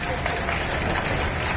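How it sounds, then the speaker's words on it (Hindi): An audience at a gathering claps loudly and steadily, a dense, continuous wash of hands that fills the whole stretch without a pause. "आपको अच्छा लगा तो जोरदार ताली बजाइए"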